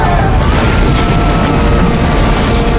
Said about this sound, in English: The roof of the building is blown clean off as explosion after explosion